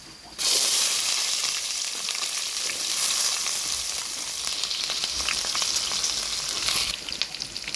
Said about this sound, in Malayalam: ഉഴുന്നൊരു ബ്രൗൺ കളർ ആകുമ്പോൾ തന്നെ നമ്മൾ ഞാൻ ചെറുതായിട്ട് അരിഞ്ഞെടുത്ത് വെച്ചിട്ടുള്ള ഉള്ളി ചേർത്ത് കൊടുക്കുക